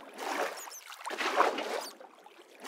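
Flowing water in the Minecraft video game, a soft continuous swishing trickle that rises and falls over a few seconds, fairly quiet and with no voices.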